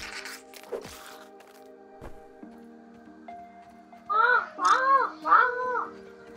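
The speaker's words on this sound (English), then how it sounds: "The crow is the one that makes that noise." A crow caws three times in the survival game Grounded, harsh rising calls in quick succession near the end, after quieter footsteps and scattered game sounds; a person talks during the clip.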